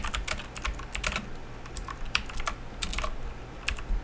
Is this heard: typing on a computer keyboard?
yes